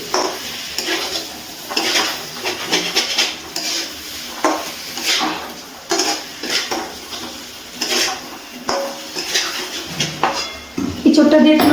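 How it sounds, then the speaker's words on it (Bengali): A spoon stirs jackfruit and spices in a pan for Bengali echor chingri, giving repeated close scraping clatters in an uneven rhythm, with a soft sizzle underneath. "ইঁচড়টা দিয়ে সব কিছু ভালো করে আবারও নাড়াচাড়া করে নিচ্ছি।"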